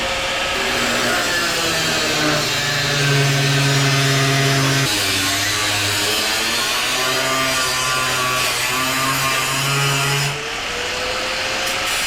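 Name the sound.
grinding down sides of Scout bedside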